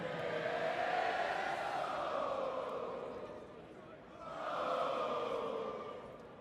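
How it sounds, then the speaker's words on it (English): A large crowd in the stands applauds and cheers for a leadership team, a broad roar that swells, dips briefly, then rises again before fading. "how about a round of applause for this great leadership team?"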